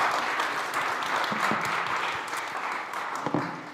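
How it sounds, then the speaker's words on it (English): Audience applause at the All Things Food summit at SXSW 2025: a sustained, dense wash of clapping from a large crowd, fairly close, with a few louder individual claps standing out near the end. "Give them a round of applause"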